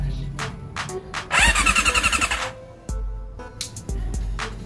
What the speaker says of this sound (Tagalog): Kaya testing ko na lang yung starter ganito.